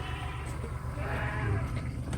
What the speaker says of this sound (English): here come the goats. See, they know I'm coming.